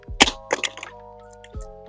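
A car detailing tool drops onto a vehicle's glass while the glass is being polished with the window down, making a sharp cracking clatter with a few quick knocks and a later thud, heard close up.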